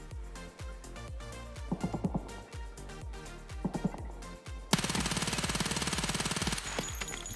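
Gunfire in the shooter game Escape from Tarkov: a few spaced single shots, then a sudden loud, sustained automatic burst of rapid fire that runs to the end.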